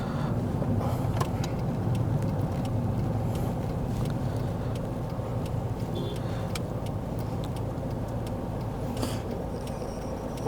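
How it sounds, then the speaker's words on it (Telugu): A security forces bus drives past a polling area during Telangana's municipal elections, making a steady low engine rumble with continuous traffic noise and no voices throughout. "బలగాలకు సంబంధించినటువంటి బస్సు"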